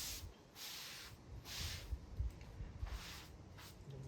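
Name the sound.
rinsing cleaning product off rusty tiles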